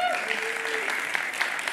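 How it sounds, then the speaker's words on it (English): Sustained applause from a conference keynote audience, a steady dense patter of clapping with a few brief tones over it. "you got a round of applause."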